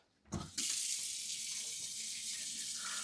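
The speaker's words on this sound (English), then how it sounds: "So I'm just going to let that run hot for a bit" Hot water gushes steadily from a kitchen tap into a sink while bread dough is being prepared, starting after a brief knock and then holding at an even, close, constant rush.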